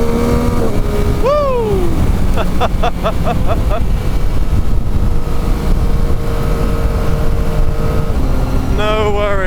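A 2023/24 Yamaha MT-09 SP three-cylinder motorcycle being ridden: a loud, constant engine and wind roar with a rising rev sweep and quick gear-change bursts, close up. The rider whoops once.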